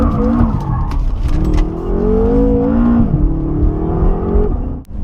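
A BMW F10 M5 engine runs steadily and loudly up close, its low drone rising and falling through a few revs over about five seconds before a brief dip at the end.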